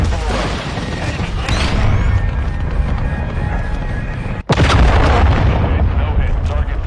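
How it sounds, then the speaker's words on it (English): A cruise missile launch and explosion in a video game shooter, with heavy booming blasts and rumbling battle noise under radio-style voice callouts, and a sharp impact cutting through midway. "Trojan 6 cruise missile away."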